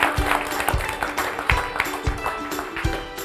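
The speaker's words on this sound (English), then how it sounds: "Please, let's clap for them as they come." Audience applause welcomes panelists onto a stage, a moderately sized crowd clapping steadily with irregular sharper claps standing out, sustained throughout.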